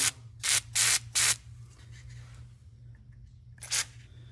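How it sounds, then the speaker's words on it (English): Three quick hissing sprays of WD-40 from an aerosol can in a row, then a pause and one more short burst, close by over a steady low hum. "I'll spray some WD-40 on them."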